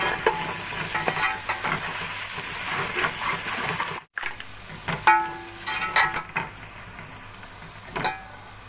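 Two teaspoons of garlic go into fried onions in a pan for mutton paye, giving a strong continuous sizzle that drops sharply, then continues more quietly with scattered stirring clinks and scrapes.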